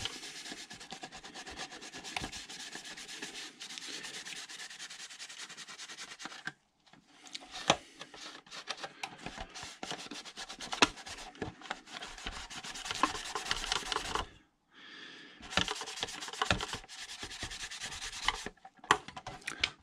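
Steady rubbing and scrubbing on a polycarbonate RC car body as stripped paint is worked off, in long continuous strokes broken by two short pauses, close and fairly quiet, with no talking.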